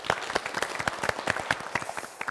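Lively applause from a studio audience at a family game show fills the space with dense, continuous clapping at steady loudness throughout.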